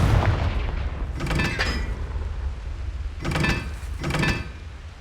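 Confringo blasting spells from Hogwarts Legacy land as two separate explosive bursts, each a quick cluster of cracking blasts with a ringing tail, over a low rumbling game backdrop.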